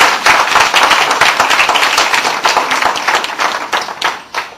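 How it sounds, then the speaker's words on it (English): A lecture audience at Amity University bursts into steady, dense applause, many hands clapping together loudly and continuously before tapering slightly at the end. "let's have a thundering applause for the real concern"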